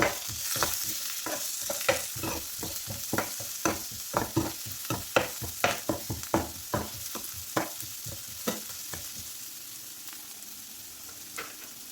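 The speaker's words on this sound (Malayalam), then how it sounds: "ഒരു 3-4 വെളുത്തുള്ളിയും ഒരു ചെറിയ കഷ്ണം ഇഞ്ചിയും കൂടി ചതച്ചെടുത്തിട്ടുള്ളതാണ്, അതുകൂടി ഇട്ട് കൊടുത്തിട്ട് ഒന്ന് നമുക്ക് ഇളക്കി കൊടുക്കാം." Crushed garlic and ginger fry in a pan for potato masala, with a soft sizzle under rhythmic clacks of a spoon stirring against the pan, close and unaccompanied by speech.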